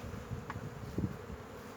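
Bees hum around a hive during brood-area work by a beekeeper, a soft continuous buzz close by with a couple of brief louder passes, no one talking.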